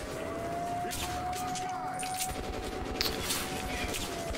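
Gunfire in the video game Metro Last Light Redux, rapid shots popping in bursts under steady game background noise, fairly faint in the mix with someone talking over it.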